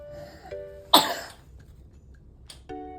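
A pet cat gives one sharp, close cough, followed by a fainter short burst a moment later in an otherwise quiet room.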